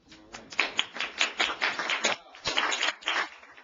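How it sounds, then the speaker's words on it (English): Entrepreneur Cafe session audience clapping for speaker Mike Huberman, a dense run of close hand claps from a small crowd with an even, steady patter, fairly quiet and free of talk. "I got some applause."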